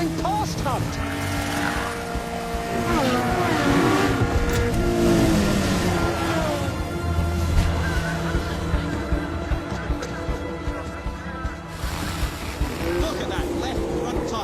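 Formula 1 race cars on a wet track, one passing another with engine howls, shifting revs and hissing spray, all under loud commentary and crowd noise.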